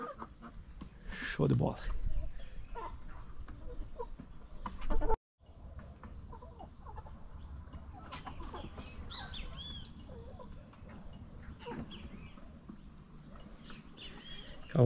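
Free-range chickens clucking on a riverbank while someone digs with a small hoe, the birds' calls rising close by amid someone speaking Portuguese and a brief dropout midway.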